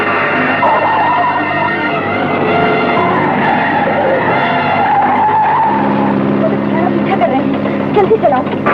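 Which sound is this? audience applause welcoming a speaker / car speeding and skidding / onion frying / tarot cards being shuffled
car speeding and skidding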